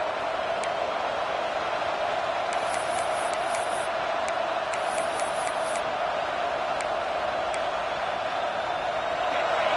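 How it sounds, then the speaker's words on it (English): A steady, full-throated stadium crowd roar from the Madden football video game holds at a constant loud level throughout, with faint ticking clicks scattered over the dense wash of noise. "This crowd, full throat, splitting the eardrums and letting them know it's going to be a long day."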